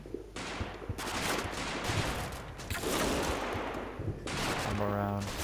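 Artillery fire in the video game Combat Mission: Battle For Normandy, shelling near Normandy hedgerows: a dense, sustained barrage of heavy booms and crackling blasts rolling without pause, loud and close.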